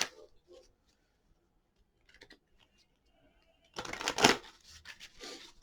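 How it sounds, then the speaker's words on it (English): An oracle card deck is shuffled in a quick, close burst of riffling card noise lasting about two seconds. Faint scattered handling sounds come before it. "Easy peasy with the shuffle."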